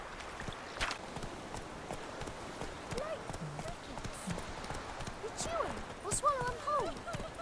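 Rhythmic hoofbeats of a horse galloping in the video game The Witcher 3: Wild Hunt clop along under a steady background, with voices talking intermittently over the running horse.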